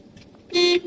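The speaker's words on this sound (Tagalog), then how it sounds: "pindutin mo nga busina" A manual car's horn, pressed by a driving student during a lesson, gives a single short, loud toot of about a quarter second, close by, over a quiet cabin hum.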